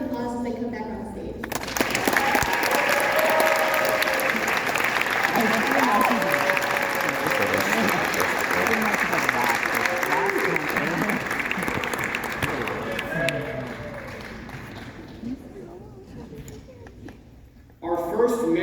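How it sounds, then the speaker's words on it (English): Loud, sustained audience applause and cheering at a Southwest Baptist University Mr & Miss pageant as candidates return to the stage, dense clapping swelling for about fifteen seconds, with shouts and crowd voices mixed in before fading out. "Let's give our candidates a round of applause as they come back on stage."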